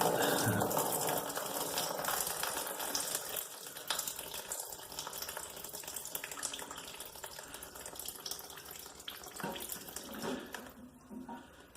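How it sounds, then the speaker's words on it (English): Steady rushing and gurgling water flows continuously at close range as a toilet tank drains through its flush valve, with no voices. "let's let the water drain out of that"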